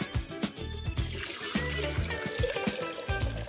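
Water is poured in a steady, close-up trickle with gurgling, uneven splashes that rise and fall throughout, with no voices heard.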